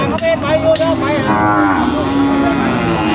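Cattle at a livestock market low and moo loudly, several animals calling one after another in overlapping, drawn-out bellows over a constant crowded din.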